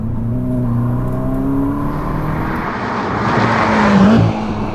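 A Ferrari SF90 Stradale engine in performance mode drones steadily from inside the cabin, its tone building and rising as the car accelerates, with no talking.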